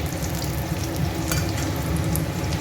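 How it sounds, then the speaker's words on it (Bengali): Green and dried chillies fry in hot oil with a continuous, close, crackling sizzle that holds at an even level, with no voices. "দুটো কাঁচা লঙ্কা দিয়ে দিলাম, শুকনো লঙ্কাগুলো দিয়ে দিলাম"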